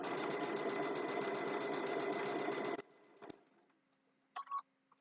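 A sewing machine stitching fabric for a quilt block, a steady loud mechanical hum of rapid stitching for nearly three seconds that stops abruptly, followed by quiet handling clicks and a brief faint chirp.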